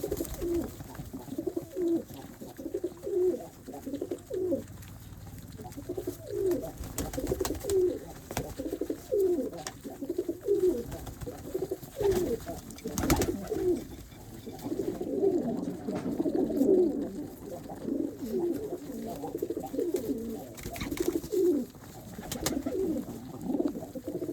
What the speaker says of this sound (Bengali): সকল কবুতর খাবার খাওয়ার জন্য ব্যস্ত